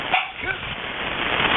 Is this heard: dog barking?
yes